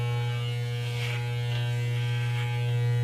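Electric hair clippers trimming hair at home, a steady close buzzing hum throughout with slight changes as the blades move through the hair.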